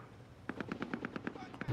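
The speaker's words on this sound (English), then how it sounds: "They shooting from the tower." Rapid bursts of automatic gunfire in Call of Duty: Modern Warfare, a steady rattle of about a dozen evenly spaced shots lasting under two seconds, fairly close and punchy, ending in a sharper burst.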